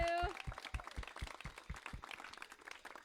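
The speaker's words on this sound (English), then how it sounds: "We'd also like to give a big round of applause for all of our sponsors once again, particularly Queen's Gardens" Audience applause for sponsors after a wildlife presentation, a brief round of scattered hand claps, moderately faint, with a voice heard at the start.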